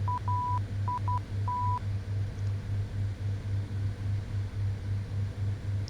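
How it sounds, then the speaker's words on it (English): Morse code identifier from a navigation radio beacon near Condorcocha, heard as a steady tone keyed into short and long beeps, clear over a continuous pulsing hum and hiss in an aircraft cockpit. "let's listen to that Morse code"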